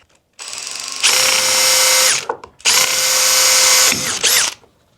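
A power drill bores holes through plastic during a solar panel install on a box truck, two loud whining bursts separated by a short pause, each ending with a brief rev as the bit clears.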